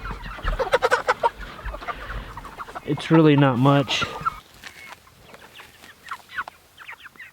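Murray's Big Red broiler chickens cluck and squawk close by outdoors on grass, with one loud drawn-out call rising in the middle; a person speaks briefly over the flock.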